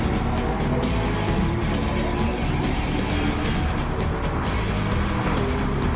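A race car in a racing video game roars continuously at high revs while braking hard into the final hairpin of a short track, loud engine and tyre noise filling the whole stretch without a break.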